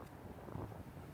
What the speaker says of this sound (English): there's just wind coming up over the top of the houses tonight